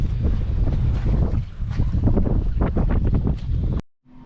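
Strong wind gusting over a small sailboat at anchor in La Paz, buffeting the microphone in loud, uneven rushes for several seconds before cutting off abruptly.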